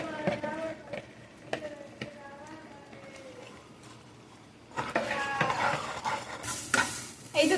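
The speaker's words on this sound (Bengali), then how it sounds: "এবার ভেজে রাখা চিংড়ি মাছগুলো দিয়ে দিই" Fried shrimp tipped into a pan of cooked-down masala for a Bengali shrimp dynamite dish, starting with a few clanks and scraping stirs over a low background, then breaking into loud sizzling and frying with repeated stirring strokes.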